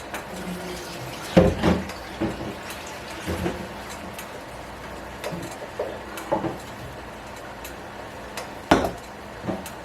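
Apples being strained for canning, with scattered clinks and knocks of a pot or strainer, brief splashes of water and clatter spaced irregularly over a quiet kitchen background, no voices.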